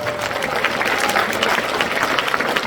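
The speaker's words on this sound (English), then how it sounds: "Give a big round of applause" An audience at a leadership meeting gives a big round of applause, a continuous, fairly loud crackle of many hands clapping without pause.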